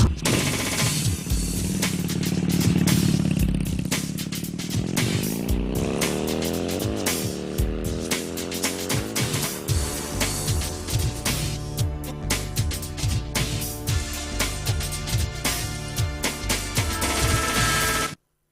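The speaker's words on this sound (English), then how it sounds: "Ignition sequence start. 6, 5, 4, 3, 2, 1, 0. All engines running. Liftoff. We have a liftoff." Rocket engines roar at liftoff, building from a deep rumble into a loud, sustained broadband crackle and thunder that fills the whole stretch with dense, rapid pulsing.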